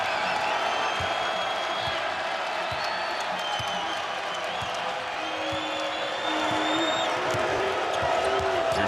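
A basketball arena crowd in Lincoln at a Nebraska home game sends up a sustained roar of cheering and applause, with ball bounces and sneaker squeaks mixed into the busy, echoing din.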